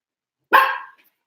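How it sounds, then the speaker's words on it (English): A pet dog lets out a single loud, close bark that trails off quickly, with silence before and after. "My dog is barking."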